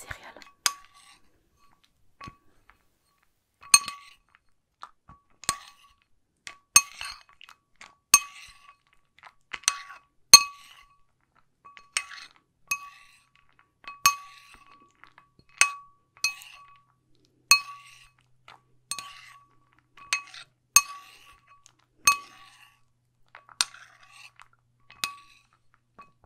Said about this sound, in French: Alors, je te mélange des céréales.